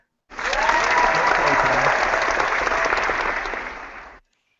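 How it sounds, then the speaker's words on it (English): A crowd bursts into loud applause, clapping steadily for a few seconds before cutting off abruptly. "Round of applause for Anton."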